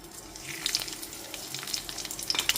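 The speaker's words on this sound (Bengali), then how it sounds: "গ্যাসের ফ্লেমটা লোতে রেখে ফোড়নটা হালকা করে ভেজে নেব" Nigella seeds and slit green chilies sputter in hot oil over a low flame, a steady close hiss with scattered crackling pops.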